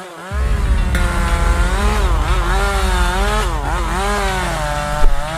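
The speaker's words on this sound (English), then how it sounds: "the guy had a chainsaw." A chainsaw runs loud and near without a break, its engine whine rising and falling in pitch as the throttle is worked.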